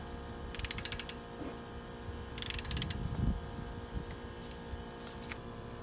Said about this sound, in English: So I've got my torque wrench here set to 37,